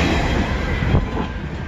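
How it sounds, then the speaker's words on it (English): A westbound train rolls past in Emmett, Michigan, with a loud, continuous rumble of wheels and cars close by and no talking. "this could be the last train, Emmett, Michigan"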